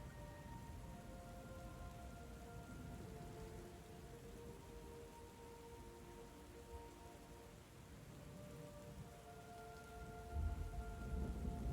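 Stormy soundscape from the video game Book of Hours, with a steady wash of rain and rolling thunder over low crashing waves, continuous and fairly loud throughout, with a heavier rumble near the end.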